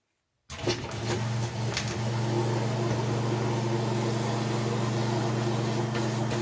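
A Seaflo water pump working as a vacuum aspirator starts abruptly and settles into a steady, loud motor hum with a strong low tone and rushing water noise, running continuously close by.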